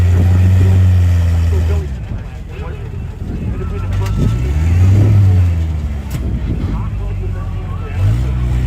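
A rock crawler with a Toyota 22R engine revs in bursts on a tight competition course, its engine note rising and falling loudly and close, with people talking over it.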